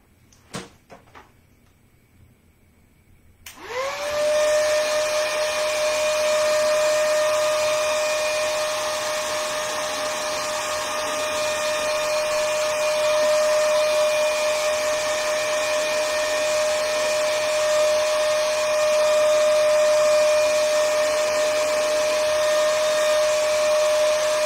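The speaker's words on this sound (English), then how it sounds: "this is an old hair dryer. It doesn't get very hot" An old hair dryer clicks on and blows with a loud, steady whirring hum, used to heat gold stripes being applied to a buffet, running continuously without a break.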